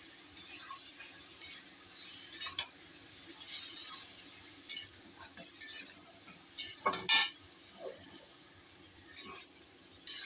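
A spoon scrapes and clinks against a pot while masala for Kashmiri aloo dum fries with a splash of added water, a soft steady sizzle underneath and intermittent metallic taps and scrapes up close.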